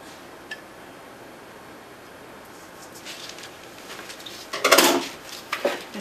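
Walnuts being mixed into a raw brownie mixture in a bowl, heard as a quiet hiss followed by bursts of scraping and clattering against the bowl that grow louder toward the end.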